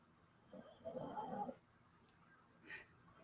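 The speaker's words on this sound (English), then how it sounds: "You can probably hear Molly snoring behind me." Molly, a pet, snores softly in the room, one drawn-out rasping breath followed by a smaller snort, low and somewhat distant.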